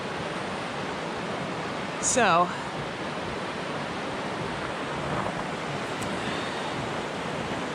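Rushing river water swollen by snowmelt after thick ice broke up, a steady broadband roar filling the whole clip near a bouncing footbridge, with a brief voice and a short bird-like chirp rising above it.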